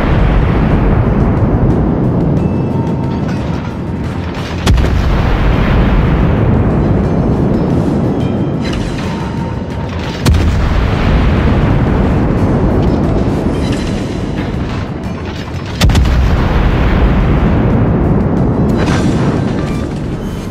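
Anti-aircraft gunfire and explosions: heavy booms roughly every five seconds, each followed by a long, loud rumbling roar that fills the scene.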